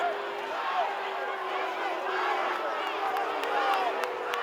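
A football crowd at a high school game voices displeasure after a holding penalty, a sustained murmur of boos and shouts with scattered whistles, while an announcer talks over it.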